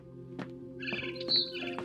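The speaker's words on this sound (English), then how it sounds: "Then I heard chirping outside my window." Bright bird chirps and tweets from a video game, a barn swallow, several short calls over a steady low hum, clear and moderately close.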